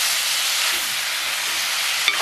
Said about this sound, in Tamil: குறைச்சி போட்டு மெல்லிய நெருப்பிலே இதை வதங்க விடுங்க.